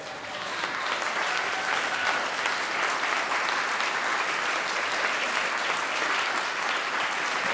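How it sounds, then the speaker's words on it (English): A large live audience applauding, the clapping swelling to a full, steady roar of a standing ovation that carries on without letting up, loud and close. "It turned into a standing ovation."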